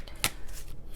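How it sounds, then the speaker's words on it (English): Tarot cards being shuffled by hand, a sharp riffle burst near the start followed by softer rustling and a second brief shuffle at the end, close and fairly quiet. "Let me shuffle this some more."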